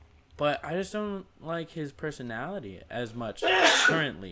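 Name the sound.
sneeze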